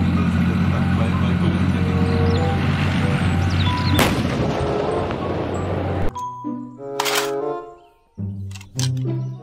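Loud mechanical rumbling with booming, explosive bursts, like toy tank gunfire, followed by short electronic tones and effects.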